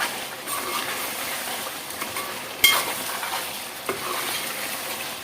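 Low steady bubbling and sizzle of a broiler chicken curry simmering in a pot, with a sharp metallic clink partway through and a softer knock later.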